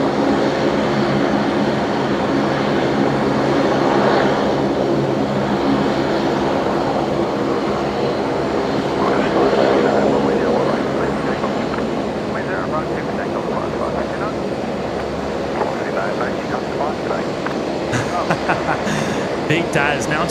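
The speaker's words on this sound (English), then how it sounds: "another Link Airways Saab coming straight at us here" Link Airways Saab turboprop approaching head-on at Brisbane Airport: a steady droning engine roar throughout, with people talking over it.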